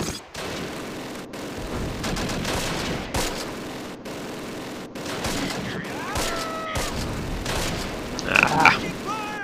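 Heavy MG42 machine gun fire in the WWII strategy game Close Combat, set at Arnhem, rattles on as a continuous dense fusillade of bursts throughout, with a brief flurry of sharper cracks near the end.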